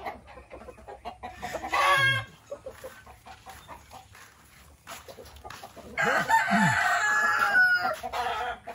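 Chickens clucking with a rooster crowing in a backyard coop area, bursts of fowl calls rising twice over quieter farmyard background, with faint voices nearby.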